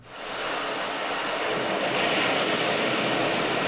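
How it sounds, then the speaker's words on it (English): Continuous roar of ocean waves washing onto shore, a full, even rush of surf with a slight swell midway and no talking. "So I'm just gonna roll with beach ambience,"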